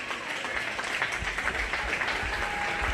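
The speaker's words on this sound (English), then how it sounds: "go ahead and give all these kids a big round of applause" Audience at a 4-H/FFA sheep and little lambs show gives the kids a steady, dense round of applause that carries on throughout.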